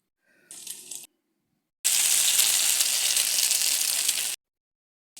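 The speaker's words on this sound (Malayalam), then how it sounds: "ഇനി ഇതുപോലെ നെയ്യിട്ട് കൊടുത്തിട്ട് നമുക്ക് ഇത് മുക്കിയിട്ട് ചട്ടിയിൽ വെച്ച് കൊടുക്കാം" Egg-dipped bread frying in ghee in a pan, a brief soft hiss followed by a loud, steady sizzle lasting a couple of seconds close by, then silence, with no talk.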